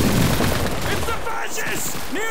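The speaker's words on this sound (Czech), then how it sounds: "Tamhle už vidíme, jak se střílí" Dense bursts of gunfire from machine gun positions in Call of Duty 2 rattle loudly at first, then thin out as faint chirpy tones and a voice come through underneath.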